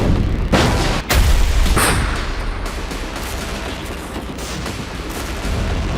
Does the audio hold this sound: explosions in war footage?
yes